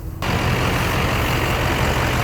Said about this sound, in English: There's a truck in front of us that he pulled over